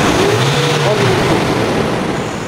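A 2019 Nissan Navara engine idling, a loud steady rumble with a faint shifting tone riding on it, close to the microphone and constant throughout.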